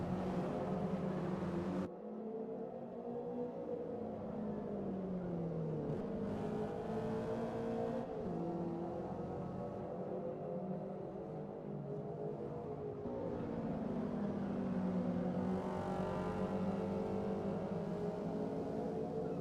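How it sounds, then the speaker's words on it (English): A Subaru BRZ engine in the Gran Turismo 7 racing game, a steady loud drone that rises and falls in pitch as the car accelerates and shifts gears, continuous throughout with no speech. "that BRZ sounds pretty good, actually"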